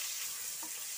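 Onion hits a hot pan for home-made egg chowmein, giving a loud, steady, close sizzle that fills the whole moment.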